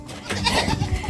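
Goats on a farm giving short, close bleats over a second of outdoor background noise.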